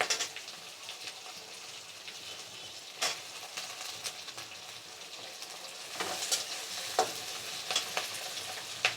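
Onion and capsicum sizzle in a hot pan, a steady crackling fry punctuated by sharper bursts and spatters as vegetables are added and stirred, growing livelier toward the end.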